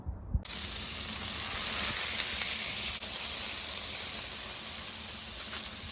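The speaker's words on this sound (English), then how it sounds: "Cook the meat. Smash the meat." Burger meat sizzles loudly and steadily on a hot Blackstone griddle after a brief clatter, a dense unbroken hiss close up with no voices.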